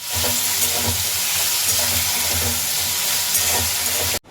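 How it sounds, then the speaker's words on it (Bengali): Ivy gourd (kundri) frying in a hot wok gives a steady close sizzle with soft stirring scrapes, continuous and loud throughout. "এই যে আজকে আমি ভাজবো কুদরি, অনেক দিন পর"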